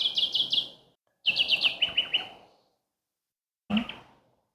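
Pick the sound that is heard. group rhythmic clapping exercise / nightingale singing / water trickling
nightingale singing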